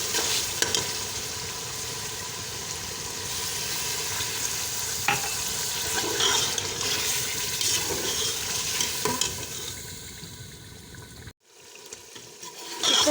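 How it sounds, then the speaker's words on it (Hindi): Chicken sizzles and bubbles in a pan after half a cup of water goes in, a steady crackling fry with stirring scrapes and occasional clinks, fairly close, dropping to a brief hush near the end before resuming. "अब हम इसमें आधा कप पानी डाल देंगे ताकि हमारा चिकन जो है वो अच्छी तरह गल जाए।"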